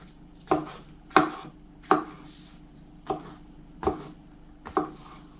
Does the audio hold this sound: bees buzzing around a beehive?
no